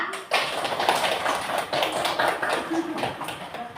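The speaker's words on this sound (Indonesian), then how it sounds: "Tepuk paha." A class of children slaps their thighs together in a quick, steady rhythm of dense, overlapping pats, loud and close, with a few voices murmuring underneath.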